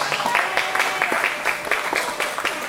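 A round of applause from spectators for exhibitors at a county fair meat goat show, scattered individual claps forming a light, uneven patter in a large space.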